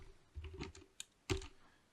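Keystrokes on a computer keyboard while a short message is typed, a few soft clustered taps then a sharper burst, close and fairly quiet with no voices.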